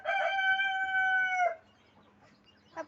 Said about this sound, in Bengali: এই দেশি মুরগি এখন খাবার খাচ্ছে।